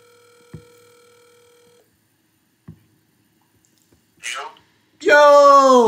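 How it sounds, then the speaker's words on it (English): A telephone call placed on the line, beginning with a steady tone that stops, then a few sharp clicks in near silence, then a loud voice coming through the phone at the end. "Let me see if I can call back Juju."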